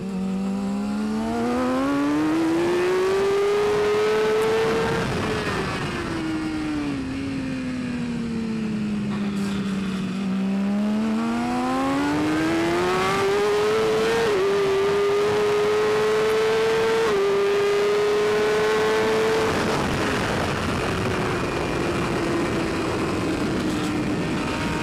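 Superbike racing on a track, with an engine note that climbs and falls repeatedly through revs and gear changes across the whole span, loud and steady with no talk.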